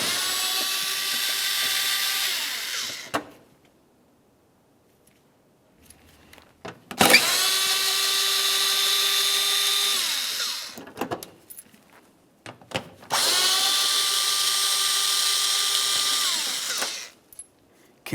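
Power drill backing out T30 bolts from the bumper cover of a 2005-2010 Dodge Dakota: three separate bursts of whirring motor, each a few seconds long with a falling pitch, separated by pauses and small clicks of handling.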